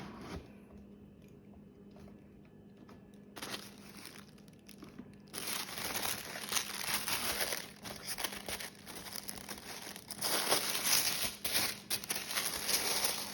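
Plastic and paper packaging crinkling and rustling as Valentino Garavani Rockstud PVC gladiator sandals are unboxed, quiet handling at first, then louder, continuous crackly rustles up close with no talk.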